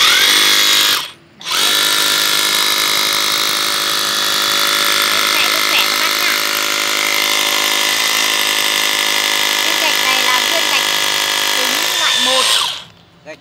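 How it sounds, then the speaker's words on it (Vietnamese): A Bo Shun three-mode cordless concrete hammer drill drills into first-grade brick, running as a loud, continuous high whine with hammering buzz for about eleven seconds after a brief start and pause, then stopping. "Sẽ khoan thử cho các bác xem."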